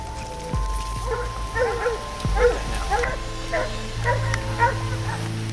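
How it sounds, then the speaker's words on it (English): Hunting dogs bark, yip and whimper in repeated bursts at a cornered boar in rain and thick foliage, set against a rumbling game-like ambience with low tones underneath. "The gun dogs corner a boar."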